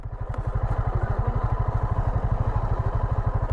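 A motorcycle engine idles at a steady, rapid low thump with even pulsing, close and fairly loud, with no talking, at a roadside stop near a forest elephant corridor.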